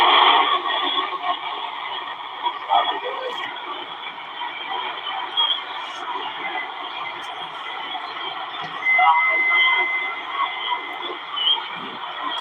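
Ham radio transmission filtered through DSP noise reduction, a steady band-limited hiss and warble with garbled, watery voice-like fragments coming and going, fairly loud and continuous.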